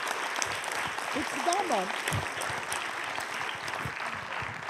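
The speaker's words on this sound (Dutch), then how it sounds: "En daar krijg je natuurlijk een heel groot applaus voor." Steady applause from a crowd fills the clip, with a voice speaking briefly over the clapping.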